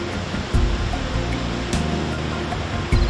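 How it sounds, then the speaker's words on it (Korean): Waterfalls in a karst limestone canyon in Guizhou, China, produce a continuous broad rushing roar of falling water, steady and fairly distant, with a few soft thuds and no voices. "협곡 내에는 수십 개의 폭포가 있다."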